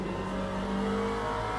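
Engine of an LMP2 prototype race car at Le Mans in a racing video game, a steady sustained drone with no clear backfire pops, loud and continuous throughout.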